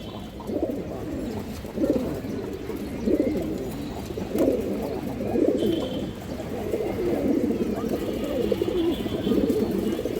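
Pigeons coo repeatedly in low, throaty bursts, several birds overlapping close by in a steady rhythm, with faint chirps in the background.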